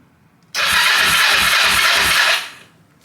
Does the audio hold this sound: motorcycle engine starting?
yes